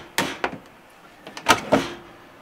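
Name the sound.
truck camper drawer sliding open or shut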